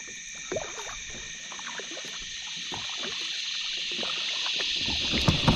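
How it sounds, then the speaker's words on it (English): A kayak glides down a river with soft splashy paddle strokes and water trickling near the hull, set against a steady high chorus of insects and outdoor ambience. "Just kayaking down this whole stretch."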